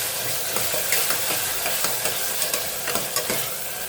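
Chopped tomato fries with onion in a pan, a steady loud sizzle with intermittent scraping stirs of a spoon, close up and with no talking.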